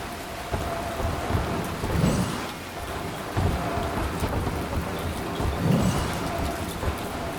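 Steady rain and rolling thunder from stormy weather in Zelda: Tears of the Kingdom, with a constant wash of rainfall and several deep rumbles swelling and fading throughout.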